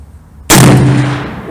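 A single shot from a Smith & Wesson 460 Magnum XVR revolver cracks out loud and close after a brief quiet moment, followed by a long booming ring-out that slowly fades.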